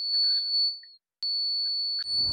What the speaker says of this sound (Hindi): देखो मशीन का बीप साउंड जो है वो चेंज हो चुका है।